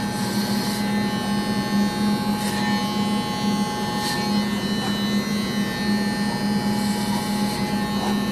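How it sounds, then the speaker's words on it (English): Electric hair clippers buzz continuously at close range while cutting a fade haircut, a steady loud motor drone with slight changes as the blade moves through the hair. "The clipper just takes it right off."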